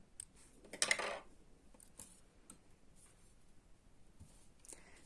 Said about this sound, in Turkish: buradan da kesiyorum ipimi